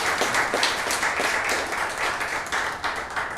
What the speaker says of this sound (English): Please, one more round of applause for Neil